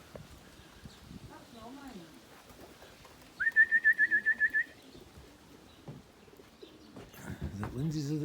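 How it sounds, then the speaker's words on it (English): Racing pigeons arrive home after a 66-mile race, with soft low coos near the start and end around a run of rapid high electronic beeps, while people talk quietly in the background. "Our Marge now needs to go and identify bird number 2."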